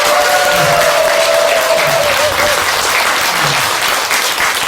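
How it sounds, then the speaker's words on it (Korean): Sustained applause from a seated audience at a Buddhist dharma talk given by a Tibetan monk at Bomunsa temple in Seoul, dense steady clapping filling the hall for several seconds with no pause. "다시 한번 박수"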